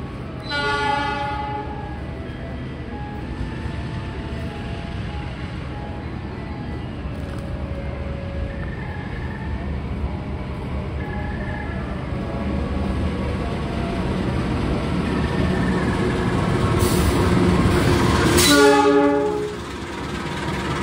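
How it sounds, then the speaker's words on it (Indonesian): The Cikuray passenger train arrives at Kiaracondong station in Bandung with a steady rolling rumble of wheels and carriages, and a loud horn blast near the end over the continuing rail noise. "Kereta api Cikuraynya sudah tiba di stasiun Kiara Condong."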